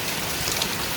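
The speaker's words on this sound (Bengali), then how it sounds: "কারণ বৃষ্টির গতিটা অনেক বেশি।" Heavy rain pours down outside a house, a dense, loud, unbroken hiss of drops striking surfaces nearby.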